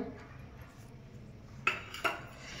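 A spoon clinks against a bowl while mixing karanji filling with cardamom and dry ginger powder, two sharp knocks standing out over soft scraping, close and fairly quiet.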